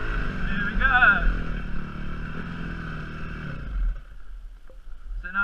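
Dirt bike engine revving steadily through a sitting wheelie, loud and close at first, easing off partway through and settling to a lower idle rumble near the end.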